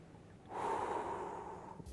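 Deliberately exaggerated breathing during a Pilates exercise, heard as one long, close, airy exhale that swells and then slowly fades, with no talk.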